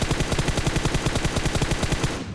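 Rapid automatic gunfire from a PUBG Mobile match, a fast steady burst of evenly spaced shots running loud and close for about two seconds before cutting off, with no voices.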